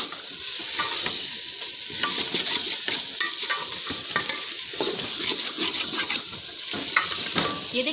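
A spoon stirs pumpkin halwa in a pan over a high flame, a steady loud scraping and stirring over a continuous bright sizzle with no talk.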